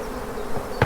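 Honeybees buzz in a steady, close drone over a brood frame as a hive is split to make an artificial swarm, with a brief louder burst near the end.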